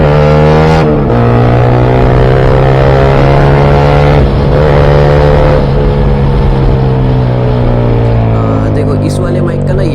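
A BMW S1000RR superbike accelerates with a loud, steady exhaust drone and strong wind buffeting, the engine note climbing through gears close by, while a rider speaks over it.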